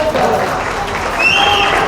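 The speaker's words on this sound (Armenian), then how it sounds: "ծափեր բարձր" Loud applause from a crowd of guests at a family celebration, continuous clapping filling the whole moment with a few voices calling out over it.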